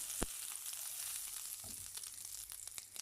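A corn flour crepe fries in a lightly oiled pan, giving a steady, soft sizzle with a few small pops, close and quiet with no voices.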